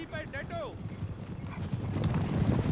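Horse hooves clip-clop in a quick run as a horse neighs near the start in the Empire: Total War video game, with a crowd-like murmur of battle noise building underneath.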